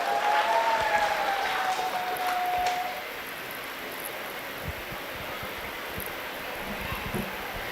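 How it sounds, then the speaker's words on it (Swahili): A wedding crowd applauds the elder for several seconds, moderately loud and fairly distant, then the clapping drops to a quieter, sparse patter over room noise. "Basi mpigie makofi mzee mbele"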